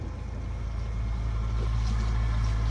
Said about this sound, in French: On est à 1200 tours en attendant que le moteur chauffe.